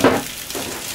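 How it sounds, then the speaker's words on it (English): Sausages bubble and fry in a pan, a brief louder sizzle at the start settling into a steady soft crackle. "as those sausages start to bubble."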